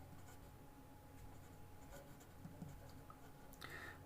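A math solution written by hand on paper, a faint, close scratching of pen strokes over a low steady background hum, quiet and continuous for a few seconds.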